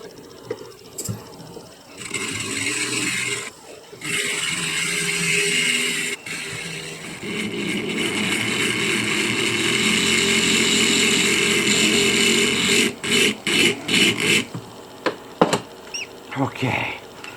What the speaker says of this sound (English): that's the big grinder